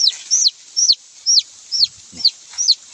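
Chickens cluck in a steady, loud run of repeated calls, set out as live bait beside a trap for a civet, with a brief low thump or rustle near the end.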